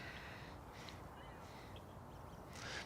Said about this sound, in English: I'm hearing a lot of birds